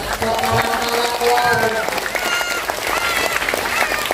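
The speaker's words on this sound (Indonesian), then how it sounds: "Tepuk tangan dulu dong" An audience at an Islamic sermon gathering claps, a loud crowd of hands mixed with voices and chatter, the applause swelling briefly near the start and then carrying on under the talk.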